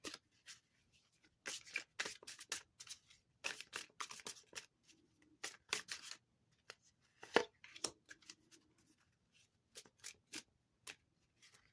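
Tarot cards are shuffled close by in quiet, irregular bursts of crisp riffling and sliding, each a second or so long with short pauses between.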